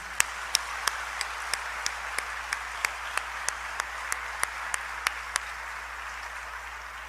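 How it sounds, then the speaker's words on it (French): A regular, evenly spaced rhythm of single sharp claps over a steady hiss of background noise, like slow rhythmic clapping from a crowd at an academic ceremony. "un vibrant applaudissement"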